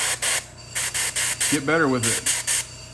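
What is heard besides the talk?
airbrush spraying miniature paint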